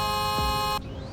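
A car horn in the Roblox game Greenville sounds as a steady, flat, buzzy tone held for nearly a second and then cut off abruptly, with a faint low swoop partway through.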